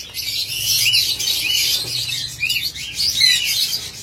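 Pet birds at a bird farm selling cockatiels, lovebirds and diamond doves chirp in a busy overlapping chorus, high bright tweets rising and falling close by for several seconds with no talk.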